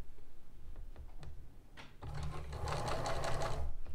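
A sewing machine runs steadily, stitching a bias band onto the edge of a gown, with a few light handling clicks before the motor starts up about halfway through and hums on close and loud.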